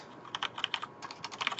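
Code is typed on a computer keyboard in a quick, irregular run of soft, close keystroke clicks, with no talk over them.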